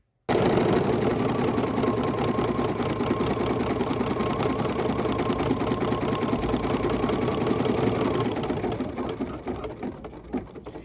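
A sewing machine stitches a nose outline onto a mixed media collage, running in one continuous fast, whirring drone up close, then slowing and stopping near the end.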